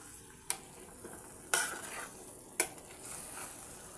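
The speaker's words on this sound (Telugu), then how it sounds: "ఇప్పుడు ఇదంతా మొత్తం బాగా కలబెట్టేసుకోండి" Brinjal pieces being stirred into masala in a pan for a brinjal and dried fish curry, three sharp scraping strokes of a utensil about a second apart over a soft sizzle.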